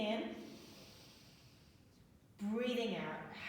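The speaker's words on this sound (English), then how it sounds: "we're going to take one audible breath" A single audible yoga breath drawn in through the nose during a weekend yoga session, a close, rising hiss that starts just as a voice finishes speaking and carries on to the end.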